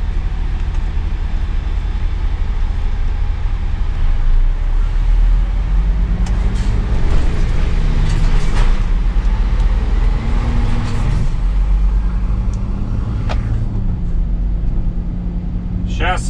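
A car drives through city traffic in Yerevan with a loud, steady engine and road rumble filling the cabin, rising and falling engine tones as it moves, and voices talking inside the car over the noise.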